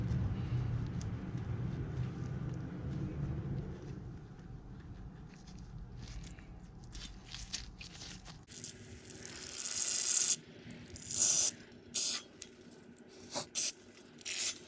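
Brake cleaner sprays into a Stihl MS170 chainsaw carburetor body, heard as a loud hissing burst and then several short, sharp squirts after a stretch of quieter handling noise.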